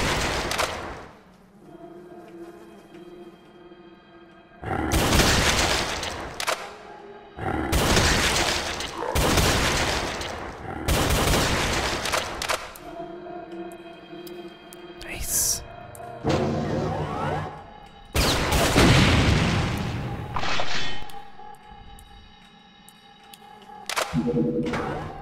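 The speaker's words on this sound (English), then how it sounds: "I love the sound of the headshots." Brutal Doom 64 gameplay with loud bursts of gunfire and wet headshot impacts coming in repeated heavy blasts, separated by quieter stretches of game ambience.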